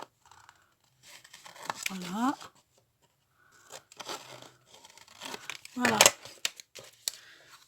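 Corners of a paper flipbook structure are cut at an angle in short crisp snips and crinkles, scattered between stretches of a person talking.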